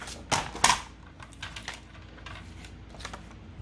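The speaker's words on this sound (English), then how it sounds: "Now we're gonna cut again." Acetate sheet being cut for a card wallet cover: two sharp close snips, then a run of lighter clicks and crisp cutting sounds, fairly quiet.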